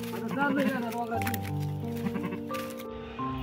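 A goat bleats nearby in a long, wavering, nasal call, with people talking over and around it.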